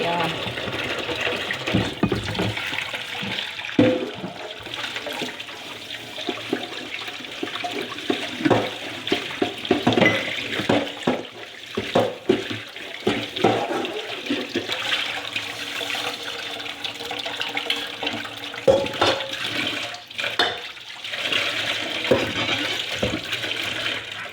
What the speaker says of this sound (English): Washing out this other pot that I have,